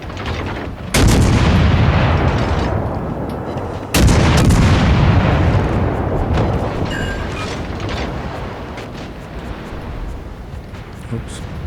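Battleship Mutsu's heavy naval guns firing shells in World of Warships, two deep booming salvos with long rumbling decay, loud and close, with a voice talking over them.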